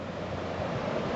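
The flooded Elbow River in Calgary rushes past in a steady, broad roar of churning water, with wind buffeting the microphone and no voices.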